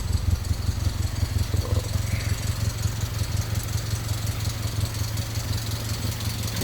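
A Honda CR-V Turbo engine idling with a custom-fabricated exhaust hanging loose, a steady low rumble carrying a faint metallic rattle, close and continuous with no talking.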